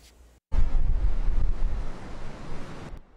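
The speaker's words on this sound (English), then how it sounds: "But those big waves, rough waters, and high tide also had beachgoers searching for any remaining sand." Big storm-driven waves and gusting wind on Galveston beach during Tropical Storm Cindy, with rough water and high tide. Loud, continuous roaring surf starts abruptly after a brief pause and stays dense and rumbling.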